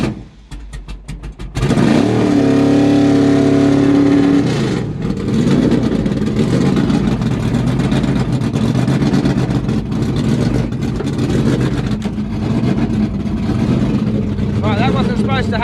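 A methanol-fuelled, supercharged Holden HJ engine cranks briefly, catches with a sudden loud roar, then settles into a rough, lumpy idle with repeated revs, close up, with occasional voices nearby.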